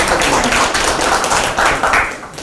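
Audience clapping at a regional future-development debate forum in Hamyang, a dense patter of many hands held steady for a couple of seconds with a slight swell near the end.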